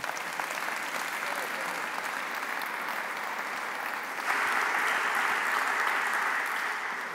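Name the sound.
applause from the audience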